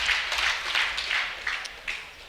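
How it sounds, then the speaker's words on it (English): Applause from a live debate audience, a steady wash of clapping running the whole stretch with slight swells, moderately loud and with no voices over it. "A round of applause."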